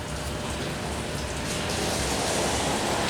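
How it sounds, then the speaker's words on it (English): Rain falling outside on a February day, a soft, even hiss of drops on surfaces that holds steady throughout, fairly faint and with no voices. "You like sitting here listening to the rain."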